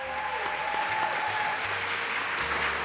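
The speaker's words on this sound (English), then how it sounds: "Let's give our students another round of applause." A crowd claps for students at a school district state-of-the-district event, a short steady burst of dense applause with faint low hum beneath.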